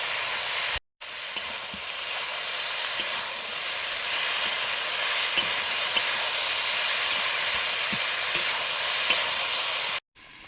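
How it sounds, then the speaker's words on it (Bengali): Fish curry broth with fried boal fish head and bottle gourd stems bubbles in a pot, a steady close hiss of boiling with scattered small pops and ticks, briefly cut to silence near the start and the end. "ঝোল ফুটে গেছে, মাছ দিয়ে দিলাম।"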